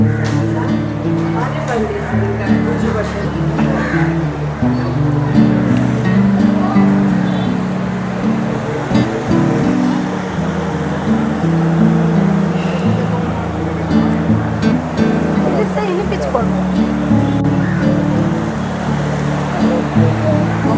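Ocean surf at Venkateswari beach rolls in steadily as a broad, continuous wash of waves, loud and close, with people talking throughout.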